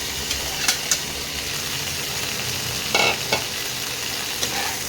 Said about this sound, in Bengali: তেল গরম হচ্ছে একটা সুন্দর গন্ধ বেরোলে এই মাঝারি সাইজের কেটে রাখা ঢেঁড়স এর মধ্যে দিয়ে দিলাম